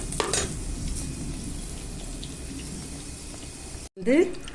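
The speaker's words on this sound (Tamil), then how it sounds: "முதல்ல எண்ணெயில போட்டு நல்லா நம்ம வெண்டைக்காயை வதக்கிக்கணும்." Okra sautéing in oil in a clay pot over a wood-fired stove, a continuous close sizzle and hiss under the scene, broken by a brief gap and a louder clatter at the end.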